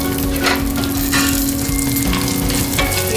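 Cashews, raisins and almond slivers roast in a pan with a dense, steady sizzle, loud and close, broken by scraping stirs at intervals.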